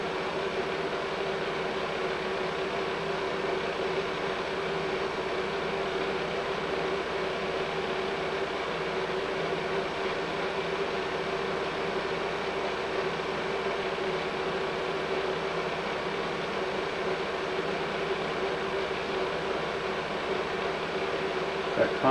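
A 1950 movie projector motor drones steadily and evenly throughout, a constant mechanical hum that stays at one level from start to finish with nothing else over it.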